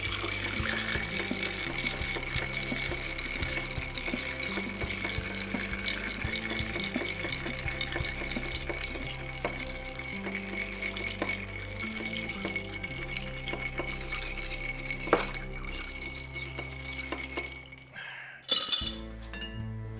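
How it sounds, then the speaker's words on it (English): Ice clinks and rattles steadily against a mixing glass as gin is stirred for a White Negroni, a continuous close, bright tinkling with a few sharper knocks near the end and no talking. "And let's stir that one for 20 seconds as well."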